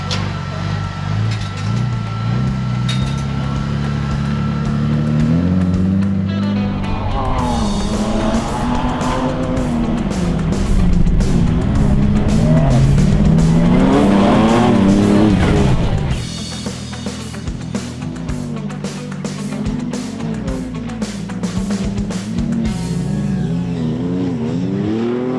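Race cars at a motorsport event in Sturgis roar continuously, engines revving and shifting pitch as they accelerate and pass, with tire squeal in a loud, sustained mix and no talking.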